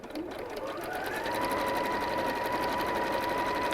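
A sewing machine runs a lengthened top stitch through two layers of fabric, a steady close motorised hum with fast regular needle ticking that rises slightly in loudness and continues unbroken.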